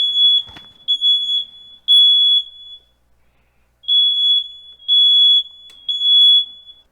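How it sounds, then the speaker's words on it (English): Household smoke detectors going off at night, set off by soldering heat: loud, piercing high beeps in quick bursts, a pause of about a second, then more beep bursts, with a brief knock near the start. "I set off the alarms."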